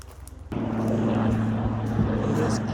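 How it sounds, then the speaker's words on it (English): A helicopter flies overhead by the Rochdale Canal: a steady low engine drone with a throbbing rotor tone comes in suddenly and holds, loud and continuous, with faint background noise. "There's a helicopter."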